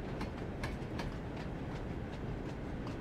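Steam locomotive running in Train Sim World 2, a steady dense rumble with rhythmic chuffing beats repeating about twice a second, continuous and close.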